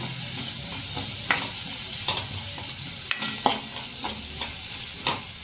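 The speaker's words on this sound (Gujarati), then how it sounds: "તલને સરસ ફૂટવા દેશું." Sesame seeds crackle and pop in hot oil under a constant sizzle, with scattered sharp pops and occasional stirring sounds close by.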